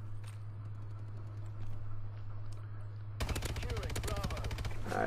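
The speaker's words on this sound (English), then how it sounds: "now I'm getting sniped" Gunfire in the video game Call of Duty: Advanced Warfare, a few scattered distant shots over a low hum, then a dense rapid burst of automatic fire in the second half.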